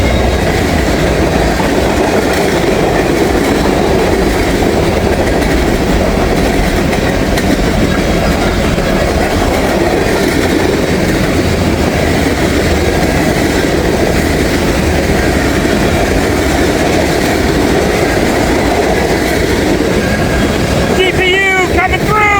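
A long manifest freight train rolls steadily past close by in rural Kentucky, its wheels clattering over rail joints in a loud, continuous rumble with faint metallic squeals near the end.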